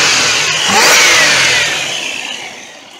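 A 1997 Buick Regal GS engine revs once, the note swelling up quickly, holding briefly, then settling back toward idle, close and loud with no talking.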